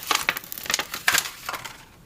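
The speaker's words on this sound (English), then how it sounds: "And you just want to peel off your transfer tape." Transfer tape peeled off Cricut vinyl, a series of close, crackling tearing bursts in uneven rhythm, quiet and alone without talk.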